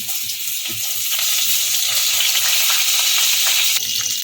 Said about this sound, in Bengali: এখন আমি বেগুনটা ছেড়ে দিচ্ছি